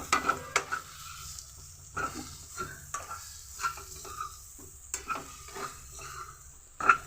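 Egg curry is stirred in a frying pan, giving soft sizzling and repeated scraping strokes of a utensil against the pan, close and quiet, with brief metallic clinks.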